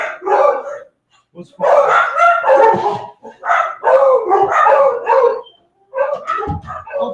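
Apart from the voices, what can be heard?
dogs barking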